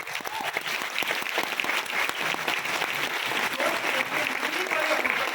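An audience at a Vestige direct selling seminar claps loudly and steadily throughout, a dense wash of applause in a large room.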